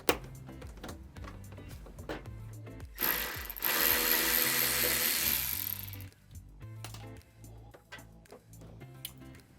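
A power tool whirs in a single sustained burst of about three seconds as it undoes a nut holding the front bumper of a Nissan 370z, with lighter clicks and clatter of work before and after.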